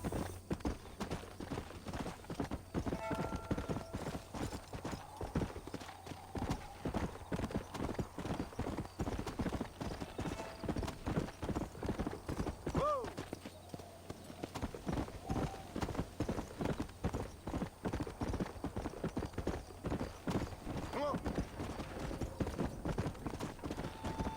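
Horse hooves in the video game Red Dead Redemption on Xbox One clip-clop in a fast, steady rhythm that runs through the whole stretch, loud and close over a low game background.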